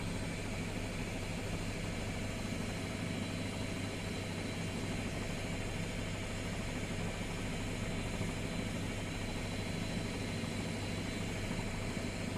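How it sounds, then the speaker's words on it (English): A fire truck engine runs steadily at a large blaze on Chicago's South Side, a continuous broadband rumble with a low drone that stays even throughout, with no voices over it. "We finally got the truck up and working."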